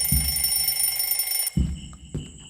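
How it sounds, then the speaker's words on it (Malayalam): An alarm ringing in the mobile game Metal Chapter 4, a loud continuous electronic tone with thudding low hits that cuts off partway, followed by a few more thumps, with no talk. "ഈ അലാം ഓഫ് ആക്കാനാണ് വരുന്നത്"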